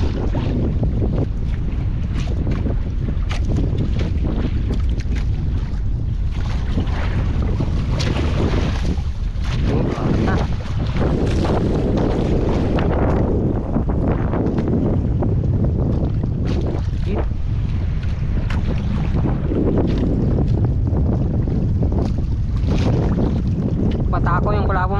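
Wind gusts steadily across open sea as a fishing boat rides the water, a continuous loud roar and buffeting with surging swells and no clear voices.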